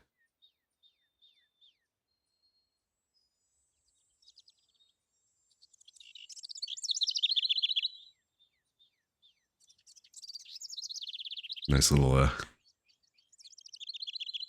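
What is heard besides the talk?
birds chirping and stream nature ambiance in a video game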